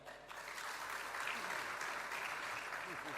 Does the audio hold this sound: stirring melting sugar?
no